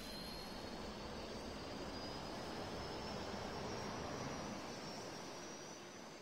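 F-2A fighter jet engines start up in the Roblox game Aeronautica, a broad, steady roar that builds gently and holds, with a thin rising whine threaded through it; quiet overall and free of talk.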